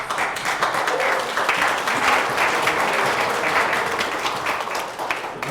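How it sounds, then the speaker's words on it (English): A room of people at a monthly community meeting claps together in dense, steady applause lasting throughout, fairly loud and close, with a slight fade near the end. "So a big applause."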